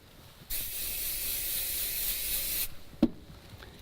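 Aerosol spray paint hissing onto a stencil in one steady burst of about two seconds as the can runs low, then stopping, followed by a soft knock.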